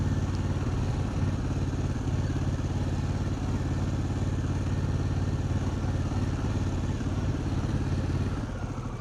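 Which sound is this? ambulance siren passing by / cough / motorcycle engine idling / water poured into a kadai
motorcycle engine idling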